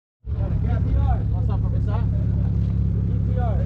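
A BMW M5 F90 Competition races an Infiniti Q50 3.0 turbo with charge pipe, downpipe and E50 fuel in a roll race from 20 mph. A loud, steady engine drone starts abruptly and holds throughout, with voices murmuring underneath.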